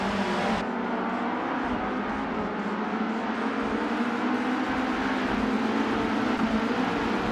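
A pack of 1972 Estonia 18 race cars in a racing video game, engines holding a constant loud buzzing drone with slight pitch wavering, unbroken for several seconds and free of speech.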